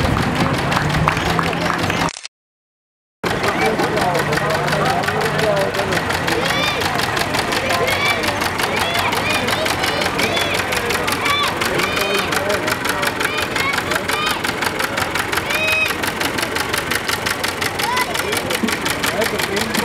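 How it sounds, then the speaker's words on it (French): Old orange tractor engine running steadily through a harvest festival parade of antique machinery, a continuous close rumble with a brief dropout, crowd noise and talk around it. "Donc ici nous voyons un tracteur orange."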